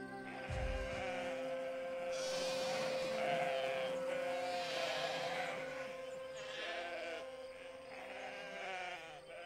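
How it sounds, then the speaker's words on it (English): Sheep bleating inside a sheep barn on an animated farm, several long wavering bleats close by and fairly loud, layered over a steady background hum. "And when I say sheep barn, I mean a real sheep barn."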